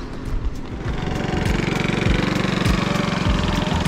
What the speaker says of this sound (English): Check that out, that's how the beach vendors do it around here. Little motorbike.